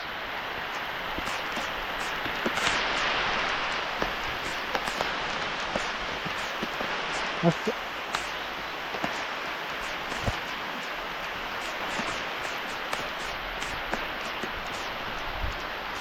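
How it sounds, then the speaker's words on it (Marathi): Sudden heavy first rain of the season pours down as a dense, steady roar of drops, scattered nearby drips and splashes ticking through it over the full stretch, with no voices. "पहिल्या पावसाचा आनंद घेऊया"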